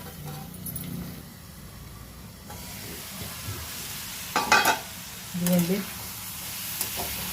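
Bitter gourd and onion pieces fry in a pan with a continuous sizzle, with a few louder stirring clatters and a brief spoken word.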